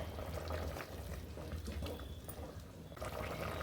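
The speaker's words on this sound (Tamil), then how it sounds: "இப்போ 2 டம்ளர் தண்ணி சேர்த்துக்கிறேங்க." Two tumblers of water pour into a pressure cooker holding mutton for biryani, a soft, low splashing gush that runs steadily for a few seconds, close and quiet, with a brief pause near the end.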